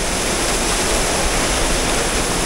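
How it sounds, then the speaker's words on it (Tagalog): Kakawayan Falls in Infanta, Quezon, with water pouring down from a mountain source; a steady, dense broadband roar of falling and running water fills the scene, close and constant with no voices. "Running water."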